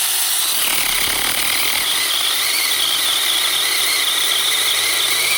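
A loud, steady high-pitched squeal of a cordless mini power saw failing to cut wood runs the whole time, whining continuously without the rhythm of a blade biting through wood.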